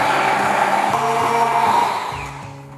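A handheld immersion blender whirs loudly and steadily while blending a hummus Alfredo sauce, its motor pitch shifting slightly as it works, then winding down near the end.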